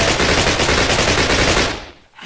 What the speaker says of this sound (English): And this is a machine rifle.